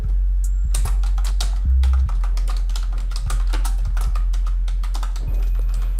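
Rapid clicking keystrokes on a computer keyboard, close and crisp, in quick irregular bursts over a low steady hum.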